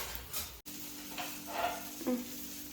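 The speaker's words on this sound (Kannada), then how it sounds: "ಎಣ್ಣೆ ಹಾಕ್ಬಿಟ್ಟು ಈರುಳ್ಳಿ ಚೆನ್ನಾಗಿ ತಿಕ್ಬಿಟ್ಟು ದೋಸೆ ಹಾಕಿದರೆ ಚೆನ್ನಾಗಿ ಬರುತ್ತೆ ನೋಡಿ ಹಾಕಿದ್ದೀನಿ ನನ್ನ ದೋಸೆ" Dosa batter sizzles on a pan rubbed with oil and onion, a soft close frying hiss with a few brief scraping touches and a short gap early on, no talk.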